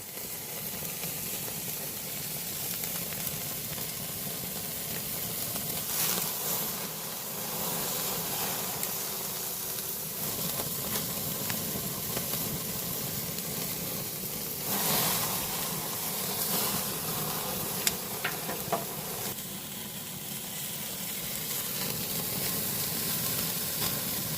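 A standing rib roast sears on a 26-inch Weber kettle grill, giving a steady broadband sizzle and hiss with scattered crackles and pops. The sound runs continuously with no one talking.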